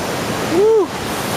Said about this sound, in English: So there's Hook Falls, guys.